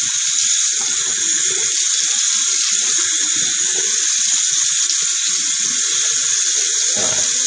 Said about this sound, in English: You're going to hear some background noise with the water